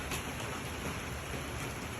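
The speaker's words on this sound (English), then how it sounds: "The rain is very necessary. Helps things grow." Rain falls outdoors as a dense, even hiss, steady and moderately quiet across the whole short stretch, with no voices over it.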